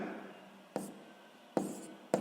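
Pen writing on paper while working a sixth-grade math exercise: a faint, quiet scratching bed broken by three sharper strokes or taps spaced under a second apart, with no talk.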